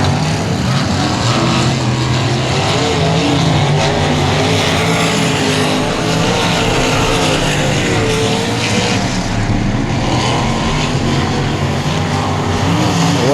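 Race cars circle the track at Cotton Bowl Speedway, a loud, unbroken roar of several engines at full throttle that swells and fades slightly as cars pass near.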